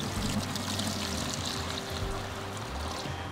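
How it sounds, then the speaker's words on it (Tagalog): Water carrying abalone poured steadily into an incubation jar, a continuous close splashing pour over a low hum of running water, with no talking. "So dahan-dahan lang po natin siyang ibubuhos dito para hindi po masaktan or ma-stress yung mga"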